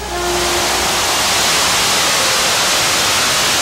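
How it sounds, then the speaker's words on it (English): A multi-engine 9200 Modified tractor-pulling machine at a 1987 pulling event roars with a loud, dense, steady broadband blast after a brief tonal start, sustained and close. "That's the roar of the multi-engine 9200 Modified."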